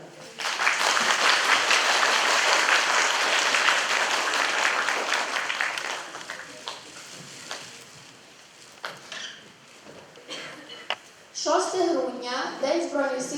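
Loud applause from a crowd at a school charity concert rolls for several seconds, then thins to scattered claps before a voice begins speaking in Ukrainian.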